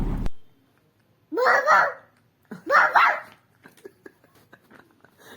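A young girl imitates a dog, giving two drawn-out, voiced woof-like barks close to the microphone, followed by softer scattered babbling and small vocal sounds.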